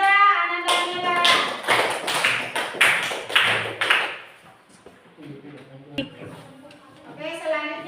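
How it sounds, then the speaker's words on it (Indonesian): Classroom applause, a short burst of distinct, rhythmic hand claps from a small group of students lasting a few seconds, then fading out as a teacher's voice takes over. "Beri tepuk tangan"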